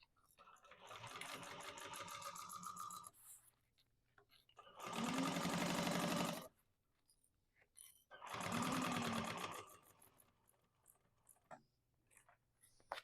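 A sewing machine top stitching a modified Mercury bag runs in two loud, steady bursts of a few seconds each, after an opening stretch of quieter stitching, with pauses of lighter handling noise in between.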